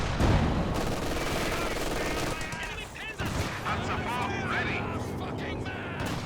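In the video game Company of Heroes 2, bursts of machine gun fire rattle amid heavier battlefield shots and rumbling, dense and continuous, with a commentator talking over it.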